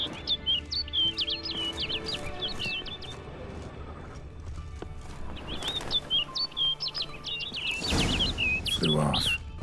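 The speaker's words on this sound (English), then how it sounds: "Looks like the bird's leading me somewhere." Two clear bursts of rapid, warbling bird song ring out in The Witcher 3: Blood and Wine, each a quick run of high chirps, over quiet background rustle and a brief louder noise near the end.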